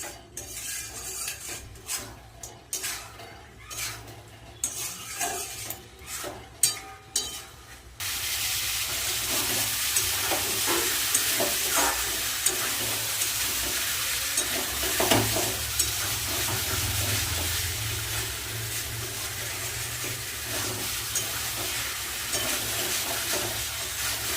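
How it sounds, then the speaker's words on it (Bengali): Spice masala sautéed and stirred in a pan for a cauliflower and tengra fish curry: irregular spatula clatter and scraping at first, then a loud, continuous sizzle with ongoing stirring and metal scrapes. "ভালো করে মশলাটা কষিয়ে নেব"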